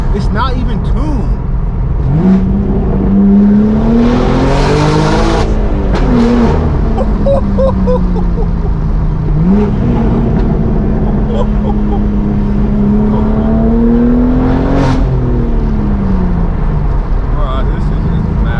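A loud, raspy BMW M4 G82 engine with straight-pipe downpipe and titanium exhaust, untuned, revs up and down repeatedly, its aggressive exhaust roaring close by, with excited voices talking over it.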